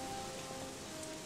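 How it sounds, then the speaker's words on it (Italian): Rain falls in the video game Gothic 3, a faint, even patter that continues steadily throughout with no voices. "eccoci nel mentre è iniziata a piovere"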